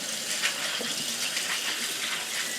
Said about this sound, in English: We'll rinse under running water